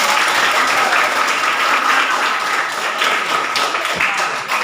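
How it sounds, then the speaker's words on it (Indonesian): A crowd breaks into applause at an event, bright, rapid clapping that stays loud and even from start to finish with no talk over it. "Iya, tepuk tangan."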